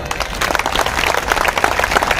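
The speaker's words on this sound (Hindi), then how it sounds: "आगे से पीछे तक तालियां उठे जरा" A crowd at a Hindi poetry recital in Rajasthan breaks into loud, dense applause, many hands clapping steadily and close for a couple of seconds.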